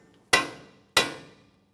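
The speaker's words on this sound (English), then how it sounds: "I'm using a pry bar that I can pry, but I can also tap on the end of" Two sharp metallic hammer strikes on the end of a steel pry bar, spaced about half a second apart, each ringing briefly before fading, wedged between the ears of a 2014-2018 Mazda 3 front lower control arm knuckle.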